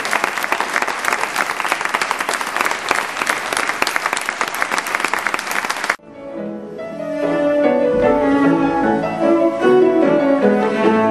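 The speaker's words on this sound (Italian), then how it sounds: "facciamo entrare un applauso." An audience claps loudly and densely at a civic music concert in Lucera, then the applause breaks off abruptly and music with sustained tones takes over for the remainder.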